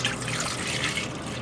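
Milk, about two and a half cups, pours steadily into a large saucepan in a kitchen, giving a continuous close liquid trickle and splash with no talking.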